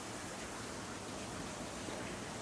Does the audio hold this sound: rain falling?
yes